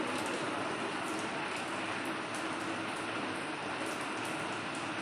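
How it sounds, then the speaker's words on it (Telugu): Heavy rain in Hanamkonda pours down in a dense, steady roar, loud and continuous throughout with no other sounds standing out. "వర్షం స్టార్ట్ అయింది కదా భయంకరమైన వర్షం"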